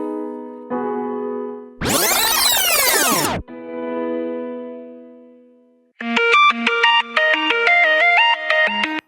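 An electronic phone ringtone plays loudly: sustained tones, a sweeping warble, then a quick melodic sequence of beeps.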